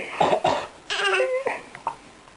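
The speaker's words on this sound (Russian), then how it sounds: "Ты покашляй сюда." An elderly grandfather coughs close to the microphone in two quick harsh bursts, followed by a longer voiced, babbling sound and a few short trailing noises.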